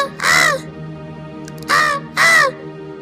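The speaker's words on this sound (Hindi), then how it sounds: "तभी पेड़ पर बैठे पक्षी उस राक्षस पर चिल्लाने लगते हैं।" Crows in an animated story caw at a demon, three loud, harsh calls close by with short pauses between them.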